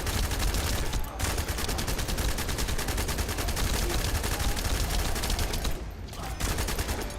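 Rapid automatic gunfire in The First Descendant video game rattles on almost without pause as a dense, loud stream of shots, broken only by two brief gaps.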